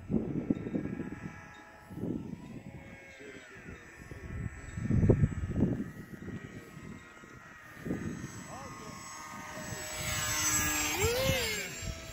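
A remote-control E-flite Aeroscout model airplane comes in to land in gusty wind, its propeller motor whining and buzzing as it nears and then fades, heard under wind noise and people talking.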